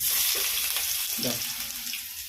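Mustard seeds crackle and splutter loudly in hot oil, a dense continuous sizzle with scattered pops, close up.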